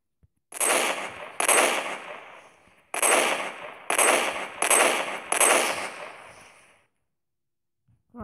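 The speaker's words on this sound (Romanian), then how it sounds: "Iar hai să văd cum e exploziv arrow." Six explosive crossbow arrows detonate one after another in a video game, each a loud sharp blast with a rumbling decay, spaced about a second apart and followed by silence.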